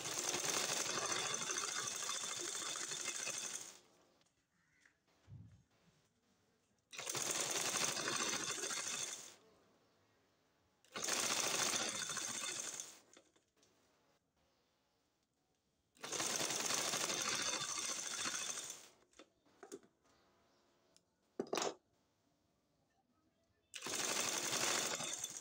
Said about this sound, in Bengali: এভাবে এখন ফিতাটা দিয়ে সেলাই করে নেব।